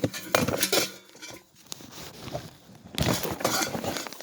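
Camping dishes, cups, plates, a plastic food container and metal silverware clatter and clink as someone handles them, in busy bursts near the start and end with quieter rustling between.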